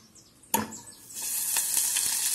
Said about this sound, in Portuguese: A gente vai pôr aqui a manteiga.